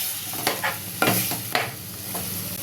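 Chicken masala sizzles in a pan while a spoon stirs it, giving several distinct scraping strokes over a soft, steady frying hiss, close and with no talking.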